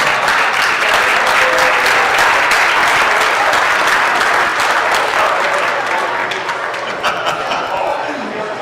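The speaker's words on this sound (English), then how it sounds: "A little round of applause." A loud crowd at a dog auction applauds and cheers, dense clapping sustained for about eight seconds with voices mixed into the noise, tapering slightly near the end.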